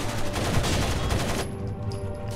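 Sustained suppressing gunfire in a Rainbow Six Vegas 2 firefight, dense overlapping automatic bursts that roar steadily, then thin out into a quieter hum and scattered shots.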